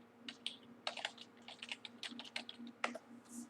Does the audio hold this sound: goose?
no